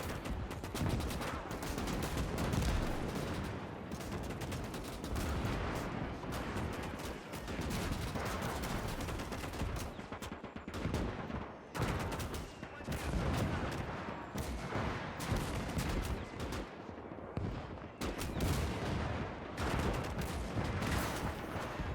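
Dense battle din in the WWII game Gates of Hell during a winter trench fight, with a .50 cal machine gun and 20mm cannon firing continuous bursts amid layered distant gunfire and booms, loud and sustained throughout.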